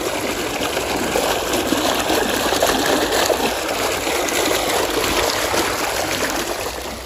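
Irrigation water flowing steadily through a tobacco field, a continuous close rushing trickle and gurgle with no voices.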